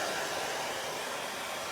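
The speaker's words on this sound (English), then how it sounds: "I'm gonna take my hair dryer again and dry this up." A hair dryer blows steadily up close, a loud, even broadband whoosh drying chalk paste on a craft transfer project, with no voices over it.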